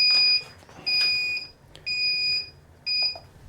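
Four steady electronic beeps from a homebrew beer kettle signalling boil, evenly spaced with short gaps, high-pitched and clear with faint background noise.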